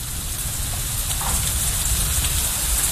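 Heavy rain in a visual novel video game, a steady loud hiss of downpour with a dense wash of drops that holds unbroken throughout and has no voices over it.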